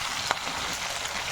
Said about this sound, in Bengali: এবার এর মধ্যে আলু আর শিমলা মির্চ দিয়ে দিচ্ছি। এবারে এগুলো একটু আমি ভেজে নেব।